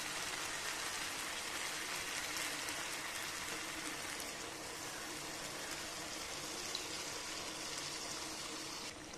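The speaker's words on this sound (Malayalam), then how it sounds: "കുറച്ച് തേങ്ങാപ്പാലും കൂടെ ഞാനിതിൽ ചേർക്കുന്നുണ്ട്." Steady coconut milk pouring into a pan, a continuous broad splashing gush that runs evenly for several seconds without pause.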